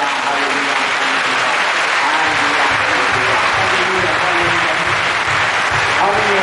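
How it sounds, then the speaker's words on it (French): An audience at a religious gathering applauds loudly and continuously, with dense clapping filling the whole stretch and a voice speaking faintly underneath. "Alors applaudissons Jésus."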